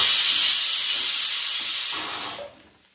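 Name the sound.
pressure cooker whistle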